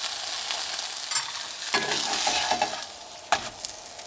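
Cheese-stuffed protein patty frying in a pan, a steady close sizzle with scattered pops and a few stirring scrapes, no talking.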